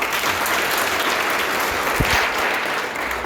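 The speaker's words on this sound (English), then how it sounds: "and everyone clap for Alexia." Audience applause at a school Menstrual Hygiene Day event, a dense, steady wash of clapping from a sizeable crowd of students that holds at even loudness throughout, with no talk over it.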